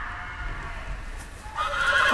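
A horse neighs in the Game of Thrones Telltale video game, a loud whinny rising at the end over steady background ambience and faint hoof clatter.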